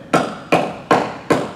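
A voice imitates AK-47 7.62 mm rifle fire: four sharp, punchy bangs at an even, quick pace, each decaying fast.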